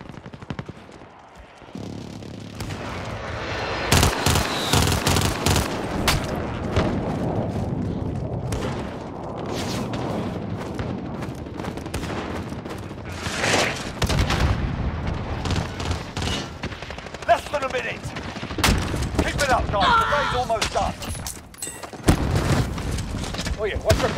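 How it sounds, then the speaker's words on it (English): Precision airstrike explosions in the Warzone video game, a dense run of heavy booms and gunfire bursts, loud and continuous, with voices talking over the blasts. "Friendly precision airstrike inbound."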